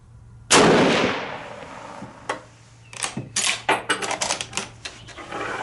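A single loud rifle report cracks close by on a 100-yard range, followed by a quick run of sharp metallic clicks and clatters.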